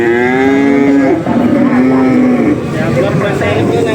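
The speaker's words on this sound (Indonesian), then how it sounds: "Sapi wandu teman-teman." A cow at a livestock market lows in a loud, close, drawn-out moo that wavers in pitch, followed by a second moo, with market bustle underneath.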